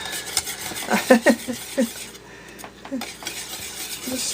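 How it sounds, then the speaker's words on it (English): A spoon stirs a mixture into hot eggnog in a pot for a chocolate eggnog pie, with a cluster of clinks and scrapes against the metal, then a quieter stretch and a few more taps. "Since it's still hot, I'll stir it in probably for 2 minutes."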